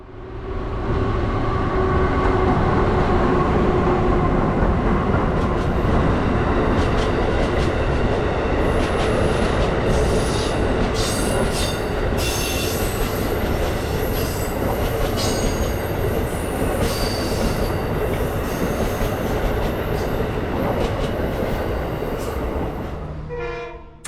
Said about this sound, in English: a double-headed Amtrak Regional Train 165 is seen coasting by westbound on